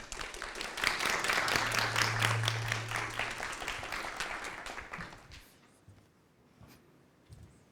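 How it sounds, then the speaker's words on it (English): Conference audience clapping to welcome speakers on stage, moderate applause lasting about five seconds before dying away into quiet room noise. "So please give them a big applause and welcome them on stage."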